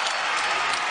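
Brief burst of applause and crowd noise from spectators at a Colorado versus Oregon State women's college basketball game, a steady dense wash of clapping.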